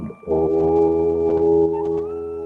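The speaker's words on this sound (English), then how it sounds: "surrender by chanting the divine sound" During meditation, a single voice chants the sacred syllable Om in one long, steady, resonant tone held for about two seconds after a short breath, clear and alone.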